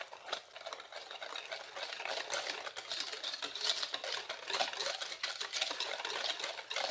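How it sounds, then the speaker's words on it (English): Two egg yolks and one whole egg being whisked into custard (crème pâtissière) in a bowl, a fast, steady stream of light tapping and clicking strokes that continues without pause, with no talking. "2 egg yolks plus 1 whole egg, and I'm going to mix this in here"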